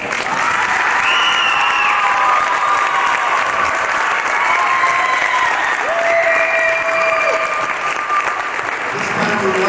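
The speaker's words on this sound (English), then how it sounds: "I think they both deserve a very big round of applause." After a basketball game, an indoor audience gives sustained, even applause for about ten seconds, dense and steady, while a voice speaks over it.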